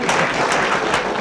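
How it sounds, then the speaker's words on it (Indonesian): Dense, loud applause from a comedy show audience fills the short stretch as a continuous wash of clapping, with no talk over it. "Tepuk tangan ya"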